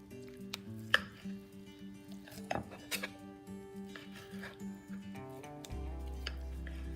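A knife cuts into a coffee-rubbed New York steak on a plate, giving faint scraping and soft clinks of cutlery against the dish, close and quiet, while background music plays throughout.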